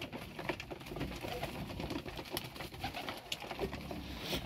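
Pigeons coo steadily in a coop or aviary at feeding time. Their soft, continuous cooing is close and fairly loud, with rustling and scattered clicks mixed in and no talk.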